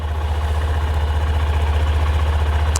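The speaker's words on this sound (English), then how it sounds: "bike's been running for nearly 4 minutes now" A Honda CB125F motorcycle engine idling nearby, a loud, steady low thrumming with an even pulse and no change in pace, heard alone.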